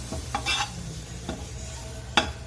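Curry leaves go into a pan of dry-roasting ingredients, giving brief bursts of sizzle and crackle mixed with a spoon scraping and stirring nearby, ending in one sharp clink.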